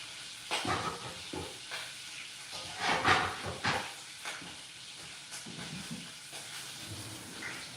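Link sausage cooking down in its own grease in a pot, giving soft sizzling and scattered pops with a few louder bursts and faint kitchen clatter, no voices.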